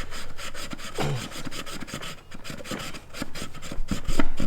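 Clutch discs for an Nth Moto clutch lapped by hand, a fast rhythmic rasping scrub of back-and-forth strokes, close and continuous, with no talking.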